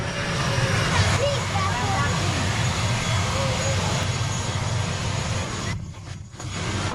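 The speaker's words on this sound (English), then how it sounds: "This is the first time I see a plane landing this close." A jet airplane roars steadily next to an airport runway in Tuvalu, with loud broadband engine noise filling the whole stretch, broken by a brief dropout near the end, while people talk over it.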